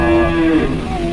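Cattle low with a long, steady moo at a farm business in Indonesia where some of the herd is pregnant; the call is loud and near, with a second fainter bellow following it.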